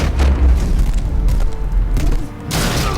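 Bomb blast in the Batman: The Enemy Within video game, a loud low booming explosion with rumbling debris that fills the clip, dipping briefly before a bright crackling burst near the end.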